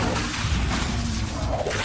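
Incendio fire spell in Hogwarts Legacy, a dense continuous roaring rush of flame-like noise, loud and steady for a couple of seconds with no clear breaks.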